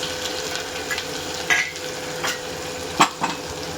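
Cumin seeds, dried red chillies, fenugreek and spring onion sizzling in hot oil for Kathiyawadi kadhi, a steady close sizzle broken by a few sharp stirring scrapes against the pan, no talk.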